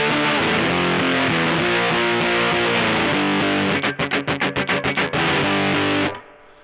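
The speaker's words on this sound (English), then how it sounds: "I quite like it as a distortion pedal for that kind of riffy stuff." Electric guitar through a Red Witch Ruby Fuzz silicon distortion pedal plays loud, thick sustained fuzzy chords, then a run of sharply chopped palm-muted stabs in a steady riff before the sound cuts off abruptly.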